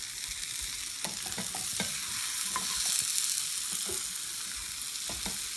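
Mushrooms sizzle and fry in a pan with a steady background hiss, while intermittent stirring and flipping clatter in uneven bursts, close by, with no talking.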